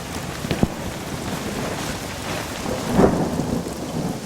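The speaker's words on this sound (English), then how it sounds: "The rain may be falling again" Steady rain falls outdoors in a dense, even wash, with low rumbles of thunder swelling in the background and a few louder splats standing out.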